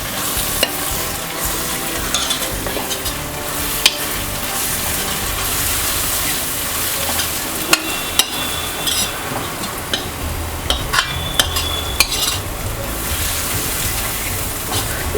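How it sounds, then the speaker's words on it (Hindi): Ground coriander, black pepper, turmeric and kasuri methi fry in a pan for Punjabi chole masala, with a continuous close sizzle and sharp scraping clicks of a spoon stirring against the pan. "अब हम डाल देंगे इसमें मसाले, सूखा धनिया, काली मिर्च, हल्दी और कस्तूरी मेथी को मिक्स करेंगे।"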